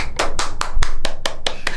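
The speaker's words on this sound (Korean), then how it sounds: "박수 안 치냐?" A small group of people in a room give steady applause, close and continuous, with quick overlapping claps in a fairly even rhythm for under two seconds.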